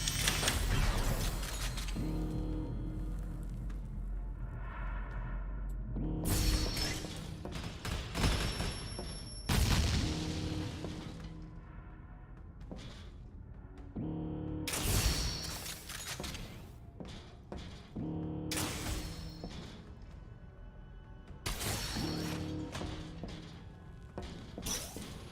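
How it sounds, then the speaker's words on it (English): Repeated sharp impacts and cracking hits from light crossbow bolts ricocheting in the game Meet Your Maker, coming in several loud separate bursts with quieter gaps between them. "the light crossbow bolts ricochet pretty heavily if you don't shoot specific materials with them"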